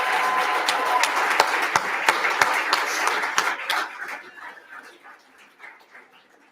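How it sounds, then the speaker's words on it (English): Audience at a university leadership awards night clapping in a strong burst that thins out and fades over several seconds, with individual claps standing out near the end. "Let's have a huge round of applause"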